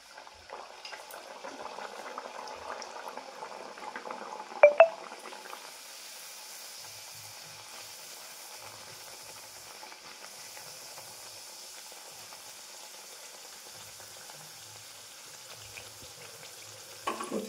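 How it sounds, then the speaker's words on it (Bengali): Spinach kochuri puri frying in hot oil, a steady soft bubbling sizzle throughout with a brief louder splash as a puri is slipped into the pan near the middle. "তো এবার আমি আরেকটা পুরি দিয়ে দিচ্ছি।"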